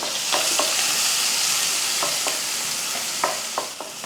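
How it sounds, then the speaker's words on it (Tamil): Green chillies, onion and curry leaves sautéing in hot oil with popped mustard seeds, a steady close sizzle broken by several sharp scraping stirs of a spatula. "கொஞ்சம் மிளகாய், 2 மிளகாயும் கொஞ்சம் வெங்காயம் கருவேப்பிலை சேர்த்து நல்லா வதக்கி விட்டுறலாம்"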